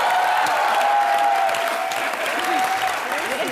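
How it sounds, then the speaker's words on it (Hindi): A studio audience applauds for comedian Sunil Grover, dense clapping that carries steadily from start to finish at a moderate distance, with a bit of crowd noise mixed in. "और एक पागल सुनील ग्रोवर के लिए भी जोरदार तालियां हो जाए"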